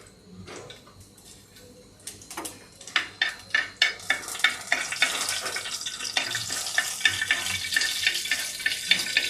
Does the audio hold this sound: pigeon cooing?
no